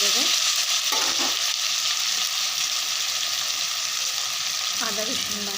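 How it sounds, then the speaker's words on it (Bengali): Potatoes, onion and tomato fry in a pan with a steady, close sizzle that holds level throughout, broken now and then by brief scraping and stirring noises. "আলুগুলো ভালোভাবে ভাজা হয়ে গেছে, পেঁয়াজ টমেটো"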